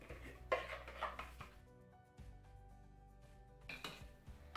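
Homemade Provençal pistou spooned into small jars, with clinks and scrapes of a spoon against glass in short bursts around a quiet stretch, close up with no talking.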